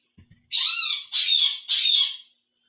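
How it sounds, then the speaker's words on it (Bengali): A parrot gives three loud, harsh squawks in quick succession, each about half a second long, close by outdoors, with a couple of faint soft knocks just before. "টিয়া পাখি ওটার এখন চেল্লাচ্ছে ক্যাঁ ক্যাঁ করে"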